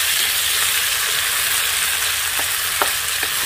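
Tomatoes fry in a pan for a village-style fried fish soup, giving a steady, close sizzle with a few soft scrapes and clicks of stirring; no speech.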